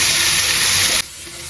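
Chicken pieces frying with ginger and garlic for a biryani give off a loud, steady hiss that cuts off abruptly partway through, leaving a quieter sizzle.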